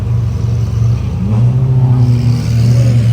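Lamborghini Aventador SVJ supercars moving through traffic at a hypercar show: a loud, close, steady engine drone with a low rumble that swells slightly as a car rolls past, with no talk.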